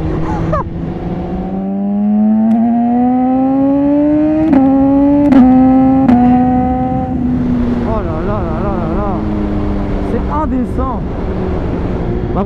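A BMW S1000RR sport motorcycle engine revs up through gears, with sharp pops and cracks at each quick upshift from its quickshifter, then settles into a droning, wavering rumble.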